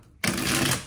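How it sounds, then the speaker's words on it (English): Oracle cards being shuffled by hand during a general tarot reading, a dense, steady riffling burst that starts abruptly and runs loud and close for most of a second with no voices. "am I shuffling too much?"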